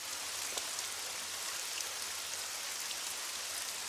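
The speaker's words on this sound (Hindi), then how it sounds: "लगता है आज ये बारिश नहीं रुकने वाली।" Heavy rain pours down in a dense, steady roar, with a constant hiss and no pauses.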